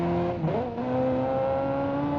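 A Stringer muscle car engine in the BeamNG driving game revs with an odd, wavering pitch, then settles into a steady, buzzy drone close up, with no voices over it.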